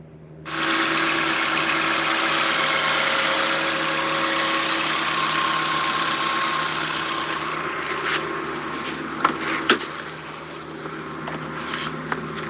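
A Honda CBR motorcycle engine starts and runs at a steady idle, a constant close hum holding even for the whole stretch, with a few faint clicks and knocks near the end.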